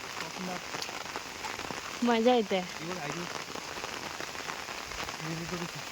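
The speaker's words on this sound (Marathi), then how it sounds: "पाऊस बघा कसला खतरनाक" Heavy rain pours steadily onto surfaces in a village, a dense continuous patter throughout, with voices speaking briefly over it.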